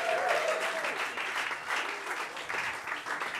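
Steady applause from a live audience at a comedy roast in a comic book store, sustained clapping and crowd noise filling the room throughout.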